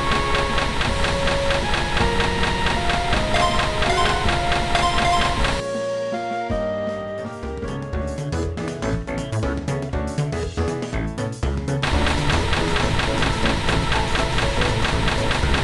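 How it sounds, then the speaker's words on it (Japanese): An E5 series Hayabusa bullet train arriving at a station rumbles steadily with a whining mechanical drone and clanking, shifting in tone midway, loud and continuous throughout. "まもなく列車が参ります。"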